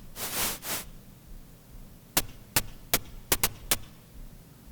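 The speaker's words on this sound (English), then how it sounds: "one that's more of like a hi-hat closed on a drum set" Synthesized white noise shaped by envelopes: two soft swelling hisses, then six short crisp ticks like a closed hi-hat on a drum set, in an uneven rhythm.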